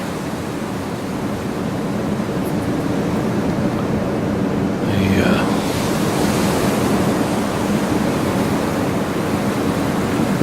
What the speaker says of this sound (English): The waves are starting to calm down.